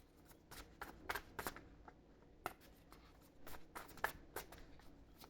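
Tarot cards riffled and shuffled repeatedly in quick bursts, crisp papery flutters close by, with no talking.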